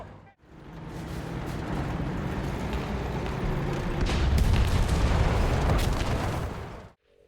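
A tank cannon fires at a Soviet self-propelled anti-aircraft vehicle in War Thunder, giving one loud, heavy boom whose rumble and debris roll on for several seconds before cutting off.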